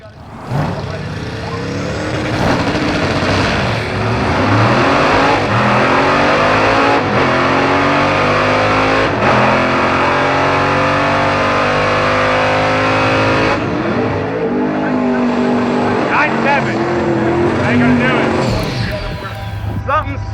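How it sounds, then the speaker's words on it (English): A drag race car at a drag strip event revs hard and bogs on the two-step launch limiter, a loud, sustained, uneven engine roar with shifting pitch throughout. "Something's severely wrong with this car because it is not accelerating. Yo, it's bogging on the two-step."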